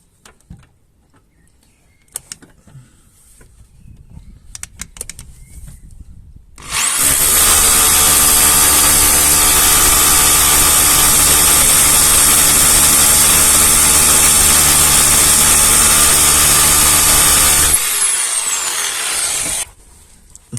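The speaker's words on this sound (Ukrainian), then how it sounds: "перфоратором в ударному режимі." A loud hammer drill in impact mode roars steadily for about ten seconds in a continuous, harsh pounding whine while knocking out a rear control arm bushing on a Kia Magentis, preceded by quiet clatter and ending abruptly.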